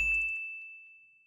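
A notification bell sound effect: a single bright ding that rings on as a clear sustained tone and slowly fades, heard alone.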